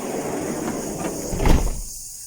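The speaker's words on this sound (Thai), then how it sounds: "เดี๋ยวปิดประตูก่อนนะครับ เพราะว่าแมลงเดี๋ยวแมลงเข้า" A campervan door slides and shuts with a single dull thud, the rolling scrape building to one loud close nearby, then the background drops to quiet.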